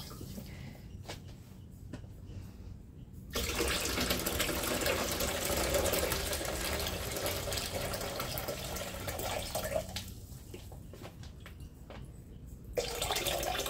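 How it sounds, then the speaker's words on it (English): Water poured through a filter runs in a steady splashing stream for about seven seconds, then a second pour starts near the end, with quieter dripping and handling noises in between. "Now it's in my best interest to filter my water."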